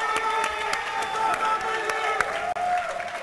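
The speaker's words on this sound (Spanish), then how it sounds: "Un aplauso para Milicua." Audience applause and crowd noise fill the hall at an esports final, likely a Counter-Strike tournament, with steady dense clapping throughout and a brief dip near the end.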